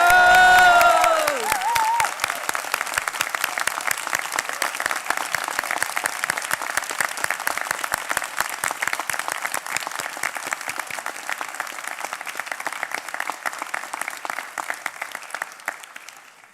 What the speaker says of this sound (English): raise the roof with a big loud cheer for the South West College graduates of